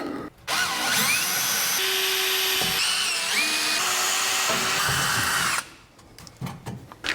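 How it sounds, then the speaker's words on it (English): A power drill boring holes into a car's front bumper while fitting a front spoiler, a loud sustained whine with pitch sweeps as the bit bites and spins down, briefly pausing midway, then stopping near the end. "let's take this back off so I can drill these holes"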